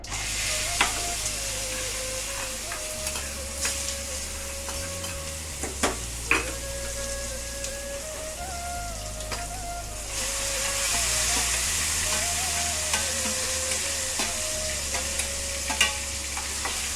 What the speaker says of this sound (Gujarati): હવે મારી મમ્મી ઓરો વઘારી રહી છે